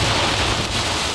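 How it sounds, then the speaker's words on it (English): Heavy thunderstorm rain with strong wind over Plainfield, a dense, loud, continuous hiss and roar with no pauses or voices. "the storm did produce some extremely heavy rains and winds over 70 miles per hour"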